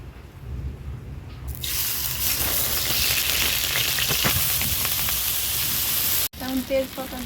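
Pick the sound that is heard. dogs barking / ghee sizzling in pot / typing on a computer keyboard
ghee sizzling in pot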